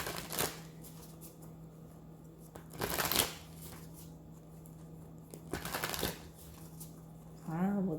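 Tarot cards are riffled and shuffled close by in several quick bursts with quiet gaps between them, and a brief voice comes in at the end.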